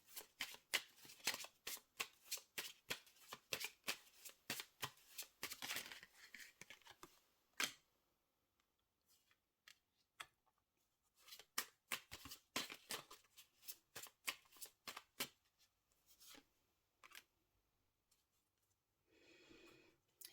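Tarot cards are shuffled in the hands, with crisp, close riffling and snapping card sounds in quick bursts, a quiet stretch in the middle, then more shuffling.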